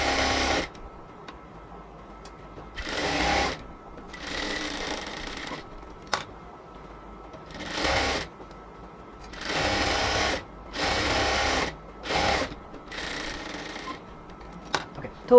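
Sewing machine double-stitching the seams of a salwar, running in repeated bursts of steady whirring separated by short pauses, close and fairly loud.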